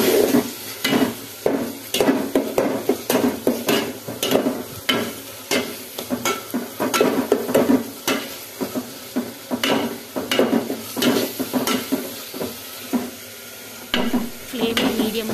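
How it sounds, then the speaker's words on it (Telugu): Masala with coriander powder fries in a pan while a spoon stirs and scrapes it in quick rhythmic strokes, close and clear over a soft sizzle. "సో ఇది ఫ్రై అయ్యి కొంచెం ఇందులో ఉన్న పచ్చి వాసన పోయే వరకు"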